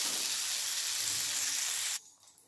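Ridge gourd frying in hot oil in a pan makes a close, steady, bright sizzle that holds evenly and then cuts off abruptly near the end.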